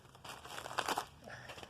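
A small paper envelope being opened, with soft crinkling and rustling that swells briefly in the middle and then fades, quiet and close.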